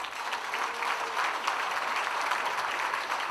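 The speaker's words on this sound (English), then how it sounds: "let's give them a round of applause" Indoor audience at a recycling and solid waste company's 25th anniversary celebration claps together in a steady, even round of applause, moderately loud and continuous throughout.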